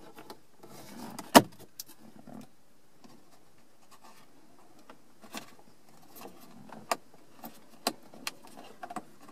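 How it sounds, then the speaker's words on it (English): Plastic clips on a Ford Taurus dash cover being pried loose with a dash removal tool, a series of sharp isolated clicks and snaps spread across a quiet background with soft scraping and handling noise between them. "We'll get underneath it with our dash removal tool and use our fingers and the removal tool to release it."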